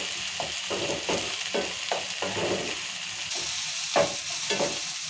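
Tomatoes and onions fry in oil, with a spoon scraping the pan in regular strokes about twice a second over a soft, steady sizzle.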